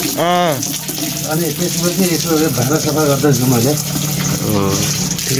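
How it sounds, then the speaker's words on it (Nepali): Tap water runs steadily during dishwashing, a continuous hiss and splash under a voice, which talks over it almost throughout. "यसो भाँडा सफा गर्दैछु मैले"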